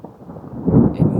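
Thunder from an approaching rainstorm outdoors, a low muffled rumble that builds and rolls in two swells over a second, moderately loud with no speech.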